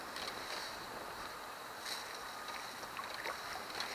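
Minn Kota Endura C2 electric trolling motor running in reverse on a solar-powered fishing canoe, a steady soft whir under a wash of water and wind noise, faint and continuous with no talking.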